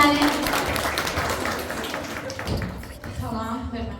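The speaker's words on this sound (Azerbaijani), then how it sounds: "Buyurun, alqışlayın Dilruba müəlliməni." An audience at a school event in a village school claps for a teacher, a dense, steady wash of applause that fades after a few seconds, with voices speaking over and after it.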